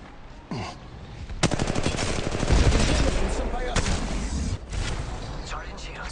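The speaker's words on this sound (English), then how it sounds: "Getting shot at." Rapid automatic gunfire bursts and sharp single shots in the mobile battle royale game Apex Legends, dense and loud with rattling volleys and a heavy low thump, while a character's voice speaks over the action.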